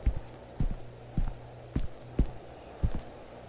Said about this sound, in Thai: เสียงเท้า เรา